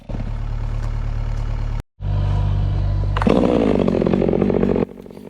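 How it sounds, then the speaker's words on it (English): A chainsaw engine runs close and loud at steady idle, cuts out briefly, restarts, then revs up hard before dropping off, while trees are felled in a confined area. "I know it looks like I start two saws like that when I do that"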